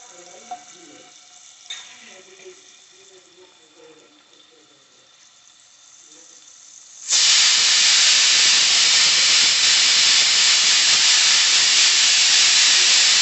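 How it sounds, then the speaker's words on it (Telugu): Onions dropped into hot oil on a low flame: near-silence with a few faint knocks, then a sudden loud, steady hissing sizzle that carries on to the end. "ఆయిల్ కొద్దిగా వేడయ్యాక ఉల్లిపాయ వేసుకుందాం"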